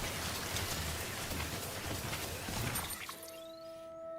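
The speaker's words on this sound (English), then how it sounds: "I gotta get out of the rain." Steady rainfall in the medieval game Kingdom Come: Deliverance, a dense, even hiss of drops at moderate loudness that thins out near the end as steady tones and ambient sounds come through.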